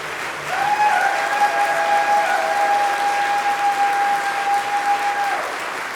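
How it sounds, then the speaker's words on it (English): An audience gives a big round of applause at a concert, a continuous even wash of many hands clapping, with a thin whistle-like tone running through the middle of it. "So if you could give them all a big round of applause."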